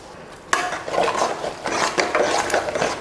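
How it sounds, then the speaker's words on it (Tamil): Leftover cooked rice being mixed in a pot: a sudden clack, then close, irregular scraping and rubbing strokes of a spoon against the pot, with no talk. "இந்த மாதிரி நல்லா கலந்து விட்டுருங்க."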